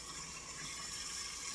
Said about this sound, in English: I'm just dumping them right into the sink